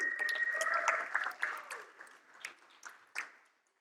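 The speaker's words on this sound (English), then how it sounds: "Give them a round of applause." Audience applause at a faith-and-work event greets two guests invited onto the stage. A dense patter of clapping with a faint whistle rises early, then thins into scattered, separate claps and fades to silence by the end.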